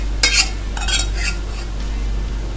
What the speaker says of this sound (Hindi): और इसको चलाते हुए छान लेंगे अच्छे से